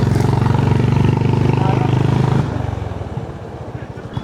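A motorcycle rides uphill toward a hilltop Holi festival crowd, its loud close engine drone steady, then easing to a lower, rougher putter in the final seconds.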